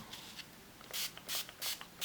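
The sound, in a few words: spray can spraying onto heart wall hanging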